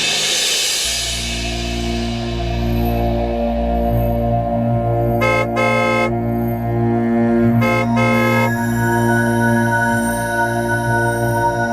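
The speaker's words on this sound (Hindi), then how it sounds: "ये आज़र की गाड़ी का हॉर्न है ना?" Two short car horn honks from Azar's car sound at a distance, standing out over a steady low droning musical background.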